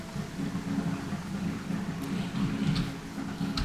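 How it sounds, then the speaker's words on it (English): Steady rain with low rumbling thunder throughout a video game storm, a dense continuous wash with a brief sharper crack near the end, no talking. "Rain so bad."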